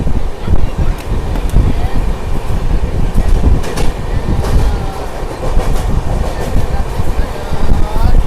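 The Bokaro Express, running from Dhanbad to Alleppey, rumbles past Kovvur railway station with loud, continuous rattling and clickety-clack of wheels over rail joints.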